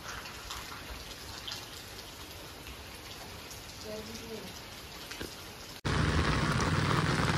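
Heavy rain pours down steadily, a dense close hiss of drops on surfaces that jumps louder near the end, with faint voices speaking underneath.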